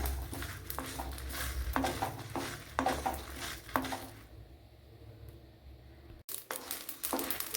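Shallots, dried chillies and curry leaves fry in a pan, a soft sizzle under repeated scraping and clinking of a spoon against the pan, with a quieter pause midway before the stirring resumes.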